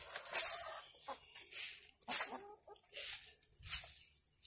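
Backyard chickens clucking at close range in short, soft bursts with quiet pauses between them and no voices.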